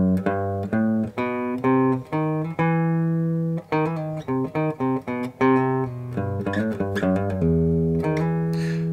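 A single melodic guitar line plays a riff on three strings, clear, distinct plucked notes in a steady run, close and unaccompanied, with no voices.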